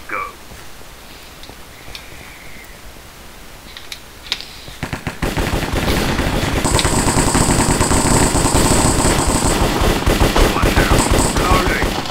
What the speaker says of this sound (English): Yes, I can afford the AK-47.